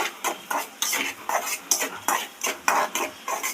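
A spoon scrapes and clanks against the pan as egg Maggi noodles are stirred with salt and chili powder, in quick rhythmic strokes of about eight loud scrapes, close by.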